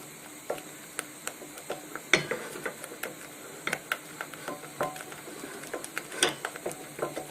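A wooden spoon stirs milk into a sauce for baked macaroni and cheese in a pan, giving soft irregular scraping and knocking against the pan with low background noise and no talking.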